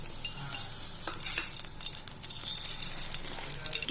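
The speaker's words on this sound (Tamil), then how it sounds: "பாத்திரம் சூடாயிடுச்சு. இப்போ அதில் எண்ணெய் ஊற்றிக்கலாம்." Soft, steady sizzling of oil poured into a hot pan for Chettinad toor dal gravy, with a few light metallic clinks and scrapes over the crackle.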